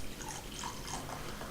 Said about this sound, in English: I'm pouring myself tea